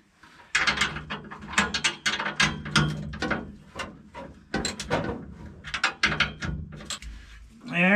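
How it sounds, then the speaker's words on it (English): Ratchet wrench backing bolts out of a junked demo car, a rapid clicking rattle in repeated bursts, close and fairly loud, with short pauses between runs. "Alrighty, we'll just take these bolts out now."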